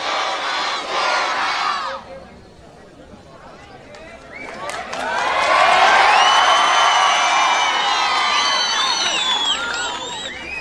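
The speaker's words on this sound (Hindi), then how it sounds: "जोरदार नारे के साथ में उनका इस्तकबाल कीजिए" A large crowd at a political gathering in Aurangabad roars slogans in unison to welcome a speaker, surging loud and sustained with shouted calls rising over the mass of voices.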